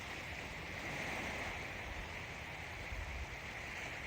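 Waves wash onto a Cancun beach in the early morning under a gentle breeze, a faint, steady broadband surf hiss with soft rolling swells and no voices.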